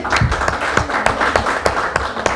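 Audience at a Kenyan music concert clapping and applauding for a performer, a dense rhythmic patter of hands that stays loud and steady throughout with crowd noise beneath.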